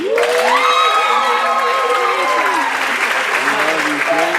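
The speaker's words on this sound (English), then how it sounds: "give him a round of applause" An audience gives a round of applause, loud dense clapping mixed with cheers and whoops that rise early and then ease slightly, with excited voices calling out over the hands.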